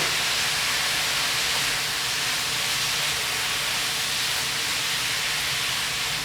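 Beef and vegetables stir frying for pear glazed yakisoba in a hot pan, giving a steady, loud, continuous sizzling hiss that holds evenly throughout with no talking.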